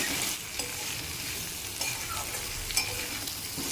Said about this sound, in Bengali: ভেজে রাখা ডুমুর আর আলু দিয়ে কিন্তু চার পাঁচ মিনিট খুব ভালোভাবে কষে নিতে হবে